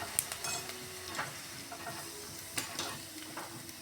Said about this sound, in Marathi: शाबूची पापडी तळताना तेल उडते अंगावर, त्याची काळजी घ्यायची.